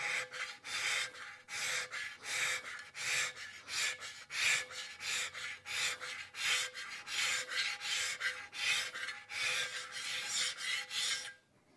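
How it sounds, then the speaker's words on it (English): A hand scraper rasps over a cast iron table saw top, working off a built-up spilled stain in steady back-and-forth strokes, about two per second, close and fairly loud, with no talking. "Then I'm going to use the scraper to work on this built-up stain that was spilled."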